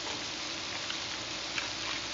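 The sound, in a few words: chicken sizzling in a pot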